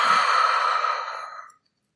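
A person exhales deeply during a breathing exercise, one long, breathy, close-up sigh of air that fades out over about a second and a half into silence.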